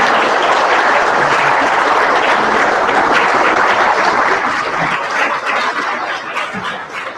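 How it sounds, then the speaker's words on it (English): An audience gives a full round of applause to community bird guides, broad continuous clapping that holds strong and then gradually thins toward the end. "we'd like to give you a round of applause"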